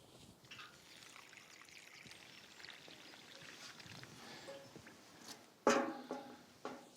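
Water trickling and pouring onto soil around a newly planted garden plant, faint at first, then a louder splash and dribbles toward the end, with no speech.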